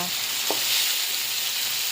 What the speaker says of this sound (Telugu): బాగా మగ్గాలండి ఆయిల్లో